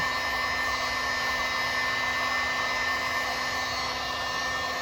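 A heat gun blows hot air onto a carbon fiber rear splitter for a Mercedes-Benz C204/W204, giving a steady close whooshing hum with a faint tonal whine, constant throughout and without speech.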